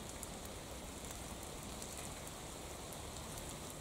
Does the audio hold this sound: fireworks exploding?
no